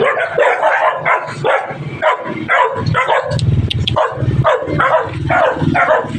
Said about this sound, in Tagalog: may dumaan na maraming aso ng tahulan